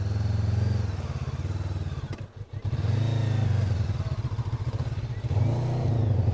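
A Honda NX500 motorcycle engine labours off-road through boggy ground, a steady mid-pitched drone with a brief dropout partway, close and fairly loud.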